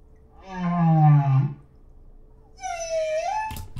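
Humpback whale song: a low, loud moaning call that rises and swells for about a second, then after a pause a higher sweeping whoop with rich harmonics, ending in a brief knock.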